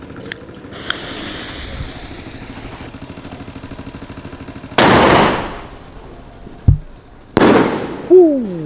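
Diwali firecrackers explode outdoors in several sharp, loud bangs with crackling bursts and a whistling rocket, separated by quieter stretches of background hiss.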